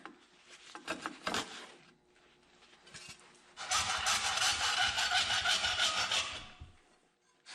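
Hand sanding of an old, torn fabric boot on a race car, with short rasping strokes at first, then a longer, louder stretch of continuous scraping, close to the microphone.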